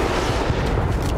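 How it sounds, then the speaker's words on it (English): Gunfire fills a Battlefield 1943 battle, a dense, loud stretch of rumbling shots and booms in a short, continuous burst. "someone is shooting at me."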